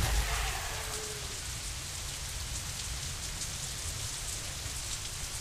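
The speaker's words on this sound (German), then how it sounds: "Es hat jetzt auch anscheinend angefangen zu regnen." Steady rain pours down continuously in the video game Deadlight, a dense hiss of drops with no talking, loudest at the very start.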